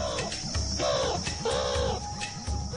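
Sharp, repeated meerkat alarm calls ring out in urgent bursts over a steady background hum, close and fairly loud, as an eagle owl threatens the group.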